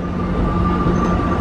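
An Amtrak Surfliner train pulls into a station, a steady loud rumble of rail cars with a sustained high tonal hum running through it, no voices over it.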